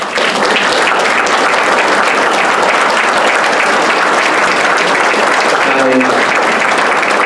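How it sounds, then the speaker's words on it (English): Loud, dense applause from the audience at a congressional candidates' debate fills the whole stretch, steady and close, with a faint voice briefly audible near the end. "So give yourselves a round of applause as well."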